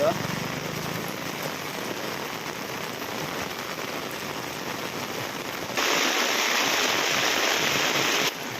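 Heavy rain falls in Patan, Gujarat, a constant broad hiss that swells noticeably louder partway through before easing slightly at the end.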